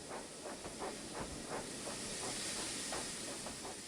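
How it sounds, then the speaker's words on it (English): A steam tank engine puffing away, a steady hiss with soft rhythmic chuffs, moderately faint and with no voices. "And Percy puffed away."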